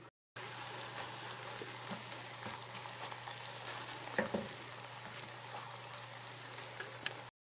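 Turkish flatbread sizzles steadily in a hot pan on a stovetop set to medium heat, a continuous soft crackling and hiss with faint occasional pops, no talking.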